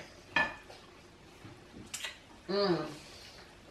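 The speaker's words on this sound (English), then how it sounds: "I am doing some curry chickpeas over here" Curry chickpeas cooking on the stove, with a few sharp clanks of pots and utensils spaced apart, close and moderately loud against quiet background noise.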